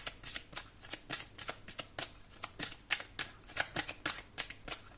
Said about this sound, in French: je prends 2 autres cartes et je vous donne les messages